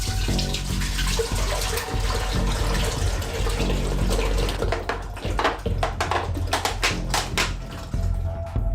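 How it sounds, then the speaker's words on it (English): Four liters of milk pour from bottles into a saucepan, a continuous close splashing and gurgling stream with shifting pitch, followed by a few sharp knocks and glugs as the bottles empty. "We open up the bottles and pour the milk into a saucepan."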